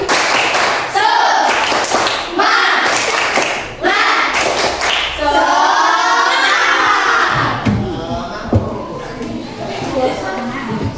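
A primary-school class of fourth graders claps a rhythmic spirit clap in bursts of sharp, loud hand claps, with children's voices chanting and shouting between them in a lively classroom.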